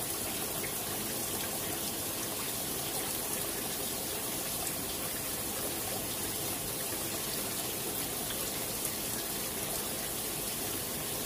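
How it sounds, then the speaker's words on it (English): Water runs and trickles continuously in a small aquaponics tank while a sample is drawn for a pH check, a constant mid-level splashing flow with no pauses. "Let's take some sample water."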